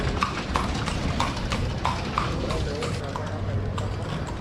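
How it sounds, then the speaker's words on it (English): Horse-drawn carriage in Cartagena's historic centre, hooves clip-clopping on the street in a steady, fairly close trot, with voices and street noise running underneath. "let yourself be driven around in a horse car"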